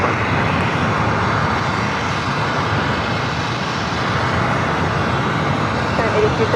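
A United airliner taking off from runway 25 right at LAX gives off a steady, loud jet-engine roar that holds evenly throughout.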